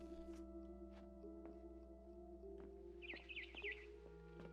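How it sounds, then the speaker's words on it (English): A barn swallow chirps outside a window in the game What Remains of Edith Finch, a short burst of quick, high warbling calls in the middle, faint against a steady tonal game soundtrack. "Then I heard chirping outside my window. It was a barn swallow going back to her nest."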